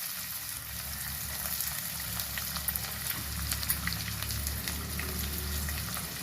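Chopped onion and green chili fry in a pan of tempering with cumin, urad dal, chana dal, fenugreek and curry leaves for tomato rasam, giving a steady, soft, close crackling sizzle with faint stirring clicks and no talk.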